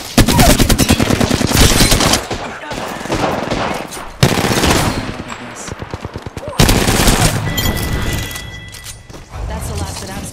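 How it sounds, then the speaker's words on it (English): Video game gunfire, long rapid automatic bursts repeated in several loud volleys with brief pauses between them, with a voice speaking partly under the shots. "Opening fire on the enemy."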